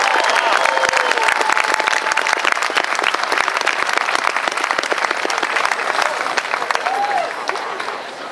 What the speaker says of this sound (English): Let's have a nice round of applause for that.